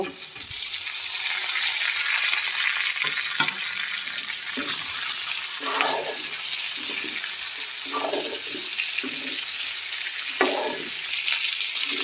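Pre-fried cauliflower and potato are stir-fried in a pan for a vegetarian curry, giving a bright, constant sizzle with scattered scraping strokes as the spatula moves the vegetables.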